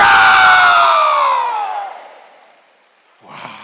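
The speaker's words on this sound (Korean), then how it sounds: "너희 만민들아, 목사, 장로, 성도, 집사, 권사들아, 손바닥을 치고 즐거운 소리로 하나님께 외쳐라." A church congregation at a Wednesday worship service lets out a loud, joyful shout together, and the voices slide downward and fade into silence before a short burst of noise returns.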